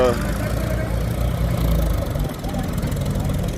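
A tractor engine idles steadily during a cleanup of a taluka school ground in Wankaner, with a continuous low rumble throughout and muffled voices in the background.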